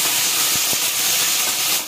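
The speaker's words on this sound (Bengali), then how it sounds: "এই এখন আলুটাকে ভেজে নিচ্ছি" Potatoes fry in a pan for aloo posto, giving a continuous close sizzle with a couple of soft knocks partway through.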